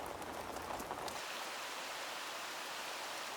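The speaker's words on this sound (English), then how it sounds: "As spring approaches, the winter snow gives way to rain." Heavy spring rain pours down in a steady, dense hiss, loud and continuous, with a fuller, rougher wash at the start that settles into an even downpour.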